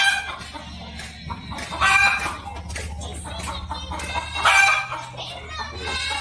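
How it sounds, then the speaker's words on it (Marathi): Chickens cluck on a farm where goats and dairy cattle are kept, with a hen making the particular call given when she comes to lay, including white birds. Several overlapping clucks and squawks sound close, and two louder bursts rise above the steady farmyard background. "एक विशिष्ट प्रकारचा आवाज करते कोंबडी जेव्हा अंड्यावरती येते तेव्हा"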